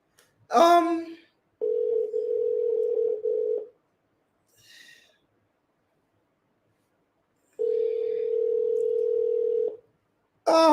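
A telephone call rings out in two long, steady tones separated by a gap of silence, with faint voice fragments at the very start and end and brief murmurs between the tones.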